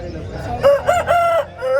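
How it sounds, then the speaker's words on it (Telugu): A large, tall Shailam breed hen at a busy poultry market gives a few loud, close, drawn-out crowing calls in quick succession over a murmur of background chatter. "ఇది శైలం జాతికి సంబంధించిన పెట్ట."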